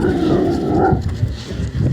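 Dogs growl in a low, continuous rumble close by at an outdoor property beside a road, steady throughout with no clear barks.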